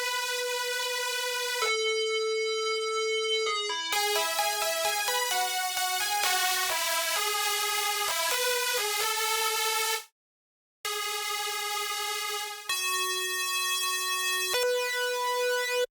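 A future bass synth lead plays a melody of bright, buzzy held notes and quick runs, loud and up front, with a brief silent gap near the end and no voices.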